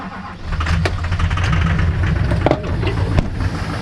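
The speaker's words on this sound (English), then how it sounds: "Cold start." A Peterbilt 352 truck's diesel engine, long idle and needing injectors, cranks and catches on a cold start, settling into a loud, close, steady low rumble with a few sharp clicks and knocks over it.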